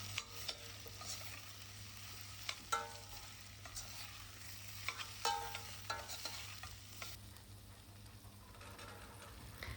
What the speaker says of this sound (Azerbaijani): Bir yemək qaşığı tomat əlavə edib, bunu yaxşı-yaxşı qarışdırıram.